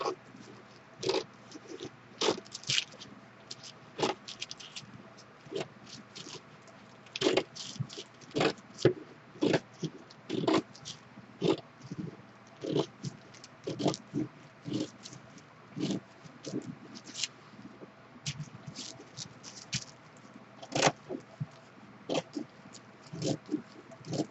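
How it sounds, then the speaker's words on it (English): Small fussy-cutting scissors snip a paper doll-gown pattern repeatedly in quick, irregular bursts, close and fairly quiet, with short pauses between runs of cuts. "I just continue to use my little fussy cutting scissors"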